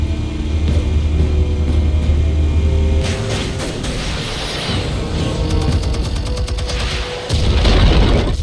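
Explosives detonate in Batman: The Telltale Series, loud deep booms and crackling bursts rolling over a rumbling low drone, with a brief lull before a final heavy blast.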